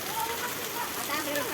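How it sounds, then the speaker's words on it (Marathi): Rain comes down steadily onto the ground and nearby surfaces, a close, even patter across the whole moment, with faint voices mixed in beneath the downpour. "काय आता पाऊस पडायला लागलाय"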